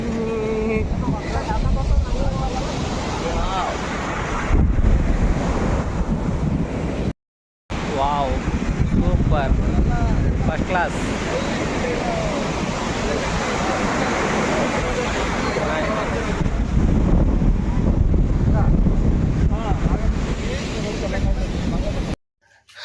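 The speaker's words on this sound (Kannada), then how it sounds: "ಸಮುದ್ರದ ಅಲೆಗಳು ಮಾತ್ರ ನೆಕ್ಸ್ಟ್ ಲೆವೆಲ್" Sea waves on a Goa beach roar in a steady, loud wash with strong wind buffeting the microphone, and voices talk over the surf throughout.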